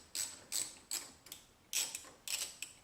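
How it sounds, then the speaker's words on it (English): A 10mm socket ratchet clicks in short, evenly spaced bursts while loosening the battery terminal on a Corvette C8, close and crisp in a quiet space, about six strokes in under three seconds. "I'm going to take my 10mm socket, and I'm going to take and disconnect the battery here."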